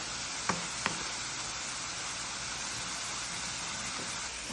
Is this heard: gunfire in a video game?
no